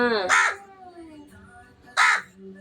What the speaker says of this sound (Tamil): நம்ம வீட்டுக்கு காக்கா வந்துச்சாமா